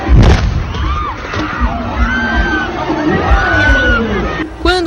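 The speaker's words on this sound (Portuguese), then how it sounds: "Quando o prefeito acende a fogueira, acontece uma explosão." A sharp bang as a large festival bonfire is lit, followed by loud crowd shouting, whoops and babble outdoors, with another burst of noise near the end.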